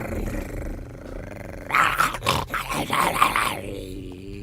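A two-headed dog in the Simon the Sorcerer 4 video game lets out a deep, close growl and snarling roar lasting a couple of seconds, over quiet game background sound.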